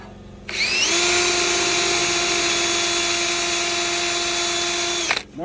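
A power drill runs against a metal column to mark it, one continuous loud whine lasting about five seconds before stopping abruptly, with no speech.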